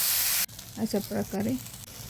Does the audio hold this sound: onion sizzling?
yes